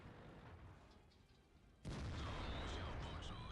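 A T110E3 tank fires its cannon in World of Tanks, one sudden heavy boom cutting in over quieter battle ambience, followed by a loud rumbling tail that keeps going to the end.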